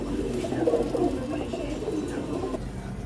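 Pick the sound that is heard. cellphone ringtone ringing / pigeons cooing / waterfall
pigeons cooing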